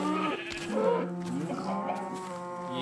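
A Minecraft cow lows in a sustained, nasal moo with clear harmonic layers, close and fairly loud, running almost the whole clip with a second bleating call partway through.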